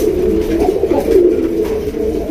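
A pigeon of a Bangladeshi local breed coos up close, a soft low throaty warble rolling on steadily for a couple of seconds with little else around.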